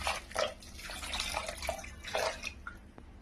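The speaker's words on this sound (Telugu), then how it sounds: "సో కుక్కర్‌లో వేసుకున్న తర్వాత ఏంటంటే ఒక గ్లాస్ వాటర్ అయితే వేసేసుకోవాలి." A glass of water is poured into a pressure cooker while making homemade crispy corn, giving a close, uneven splashing and dripping with several short gushes over a few seconds.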